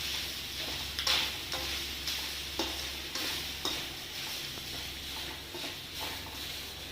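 Grated coconut sautéing in a pan for chutney, a soft steady sizzle with repeated light scrapes and stirs of a spatula, fairly quiet and close, with no talking.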